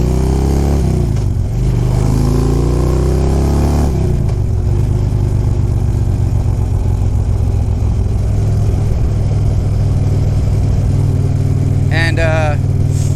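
Engine note of a Honda Silverwing scooter while riding, a loud continuous drone with shifting pitch as it accelerates, heard under a rider talking throughout.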